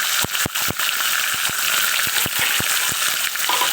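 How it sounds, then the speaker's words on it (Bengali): Oil sizzles and crackles steadily as katla fish belly pieces fry, with sharp popping spatters scattered throughout at close range. "দেখুন মাছগুলো এখনও ভাজা হচ্ছে"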